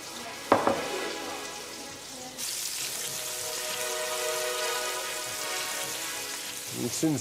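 Fish sizzles skin side down in a hot pan, a sharp clack starting a steady loud fry that swells into a continuous bright crackle as it is basted, with a brief stir near the end.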